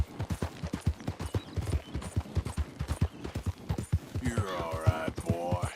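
Horse hooves in the video game Red Dead Redemption 2, a steady, rhythmic clip-clop of a trotting horse, fairly close and clear, with a brief higher tonal sound near the end.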